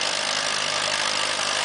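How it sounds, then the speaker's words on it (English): A smooth-running antique tractor engine pulls at the Havana, Illinois tractor pull, a loud, steady, continuous drone heard up close with no break. "Got a nice, smooth running tractor."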